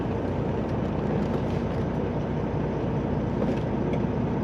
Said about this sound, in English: Oh, train, there's a train.